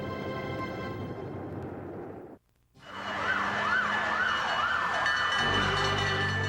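Wailing emergency sirens from fire engines racing through New Delhi, India, toward a fire in a 12-story office building; a loud, continuous rising-and-falling wail resumes after a brief silent gap, with traffic rumble beneath.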